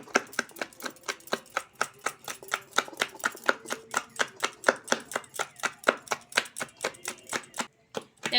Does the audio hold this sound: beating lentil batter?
yes